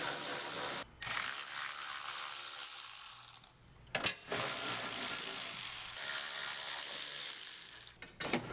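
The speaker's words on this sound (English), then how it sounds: "we'll remove the bolts going across it" A ratchet loosens bolts from the tunnel brace of an A90 Toyota Supra: close, rapid clicking runs in sustained bursts with brief pauses between strokes.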